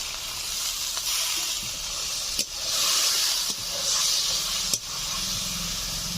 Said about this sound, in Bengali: আমি এই রান্নাতে গুঁড়ো মশলা ব্যবহার করেছি, তাই সামান্য জল দিয়ে কষবো।